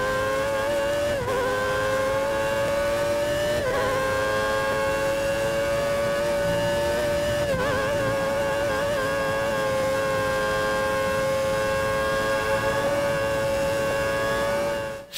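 Formula 1 cars at Spa-Francorchamps during the Belgian Grand Prix, including Fisichella's Jordan Peugeot and Hakkinen's McLaren, give a loud, steady high-pitched engine whine that shifts pitch with gear changes and continues throughout.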